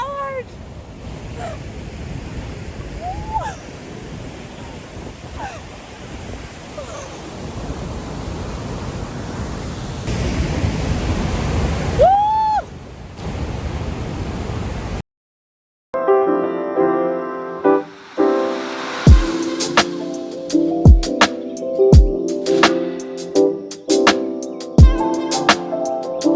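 Roaring torrent of Murchison Falls in Uganda, a steady broadband rush that fills the first fifteen seconds, followed after a brief gap by rhythmic tonal music with sharp beats.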